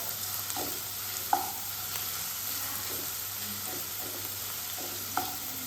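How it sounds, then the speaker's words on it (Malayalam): Crushed garlic and ginger sautéing in a pan, a steady soft sizzle with occasional scraping stirs of a spoon, close and fairly quiet, no talking. "അപ്പോൾ ഇതിലേക്ക് വെളുത്തുള്ളി ഇഞ്ചി ചതച്ചത് ഞാൻ ഇട്ട് കൊടുക്കുന്നുണ്ട്. ഒന്ന് നല്ലോണം അതിൻ്റെ പച്ച മണം മാറുന്ന വരെ ഒന്ന് വഴറ്റി കൊടുക്കാം."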